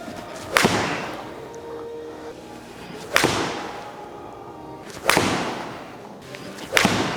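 Four sharp, loud golf club strikes spaced a couple of seconds apart, each a crisp whip-like crack with a short fading tail, from budget irons being tested on mishits off the toe.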